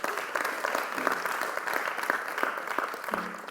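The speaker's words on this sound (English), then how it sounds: "So let's give a round of applause for General Hilary Matano." A round of applause from an audience at a university debate event greets a panelist: continuous, moderately loud clapping from many hands, steady throughout.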